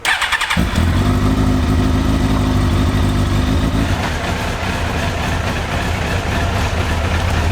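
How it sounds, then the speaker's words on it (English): A Suzuki GSX-R1000 motorcycle engine catches and settles into a low, steady idle, a close, loud, throbbing rumble that carries on unbroken with no talking. "Bit of a low idle."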